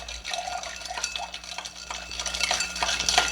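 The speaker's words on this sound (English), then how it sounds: "we're just going to give that a good stir" An Old Fashioned cocktail with Maker's Mark bourbon being stirred with ice: close, quick clinking and swirling of ice against the glass in a steady repeated rhythm, fairly faint, with no talk.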